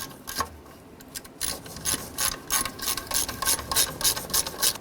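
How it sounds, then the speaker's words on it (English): A hand ratchet tightens heat shield bolts on a 2008-2012 Honda Accord during a front catalytic converter replacement, giving quick repeated metallic clicking strokes in short bursts, close and clear, with no talking. "we'll go ahead and tighten down the upper ones"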